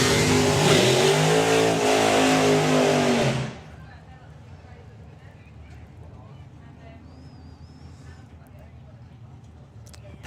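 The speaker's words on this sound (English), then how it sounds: "he does the burnout and pulls it over to the right-hand side" A top-fuel style dragster does a burnout at a drag strip during a Summer Nationals race day: a loud, dense engine roar with layered harmonics for about three and a half seconds, cutting off abruptly to faint background crowd and ambience.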